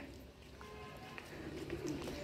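Newly bought pigeons coo faintly and softly in the background, their low murmuring calls sitting under quiet ambient noise.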